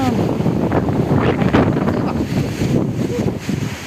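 Strong gusting wind from a storm in the Khulna region buffets the microphone in a loud, continuous roar with brief surges.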